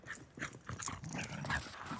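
A dog playing outdoors in open space, making soft whimpers, yips and huffs amid rustling movement, fairly faint and continuous without any talking.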